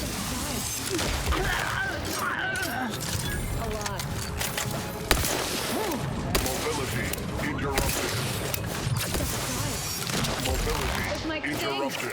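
Gunfire and combat noise in The Outer Worlds 2 rattle on steadily for several seconds, with scattered sharp shots and clanks beneath people talking.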